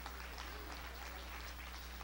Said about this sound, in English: Clap your hands. I feel some victory.